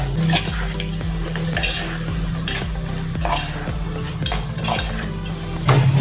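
Homemade garam masala is stirred and roasted in a pan with a spoon, producing rhythmic metallic scraping and clinking strokes, loud and close, with a faint background hum.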